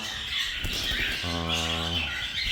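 A harsh, buzzy squawk comes from cockatiels in an aviary flight, heard once loudly for about a second amid softer chirps and background noise.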